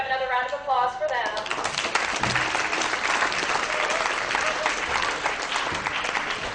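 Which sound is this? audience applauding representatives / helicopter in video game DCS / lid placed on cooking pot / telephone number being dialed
audience applauding representatives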